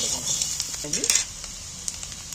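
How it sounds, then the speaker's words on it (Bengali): Potatoes fry in a pan with a close, steady sizzle, while brief stirring clinks and a short spoken moment cut through the crackle. "দেখো আলুগুলো আমার ভাজা হয়ে গেছে এর থেকে আর বেশি ভাজবো না"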